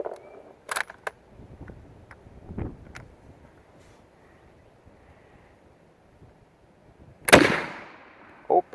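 A 1916 Mauser rifle firing blue plastic training ammunition gives one sharp, loud crack late on, preceded by a few faint mechanical clicks and handling knocks against quiet wind outdoors.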